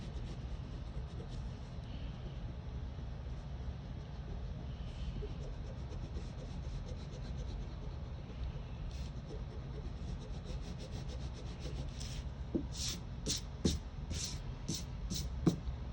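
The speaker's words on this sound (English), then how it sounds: "So I'm just taking my time to erase all of my excess lines." An eraser rubs out excess pencil lines on paper, making a faint, soft scrubbing that turns into a run of quick back-and-forth strokes toward the end.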